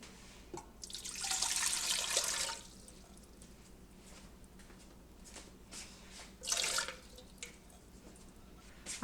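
Water pours into a mixing bowl for bread dough in two bursts, a longer splashing stream followed later by a shorter one, with quiet room noise between.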